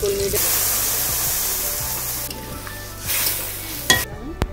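Kolmi greens (water spinach) and dal tipped into onion and tomato frying in spiced oil, giving a steady sizzle with stirring scrapes and a few clattering knocks near the end.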